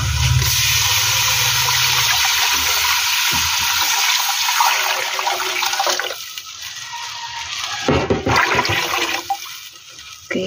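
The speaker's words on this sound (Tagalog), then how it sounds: "Lagyan natin ng tubig." Water pours steadily into a cooking pot of sautéed ingredients to make broth for yellow rice, a loud continuous rushing splash that thins and breaks up toward the end.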